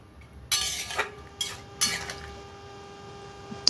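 A spoon scraping and clinking against a pan while paneer and capsicum curry is stirred, giving three or four sharp metallic strokes close by, followed by quieter clatter over a low background hum.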